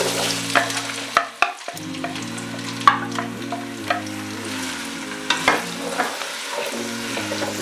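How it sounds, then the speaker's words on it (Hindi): Onions frying in a cup of oil in a deep pot, a constant close sizzle broken by sharp scraping and knocking of a spoon stirring against the metal, with a low steady hum beneath and no speech. "प्याज हमारा फ्राई हो रहा है।"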